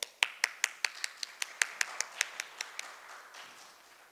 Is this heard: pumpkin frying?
no